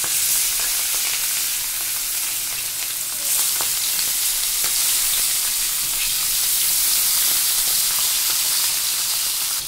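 Turmeric- and salt-rubbed hilsa fish pieces fry in a hot wok, giving a loud, continuous close sizzle and hiss with faint occasional spatters throughout.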